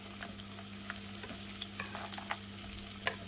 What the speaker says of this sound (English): the oil does splatter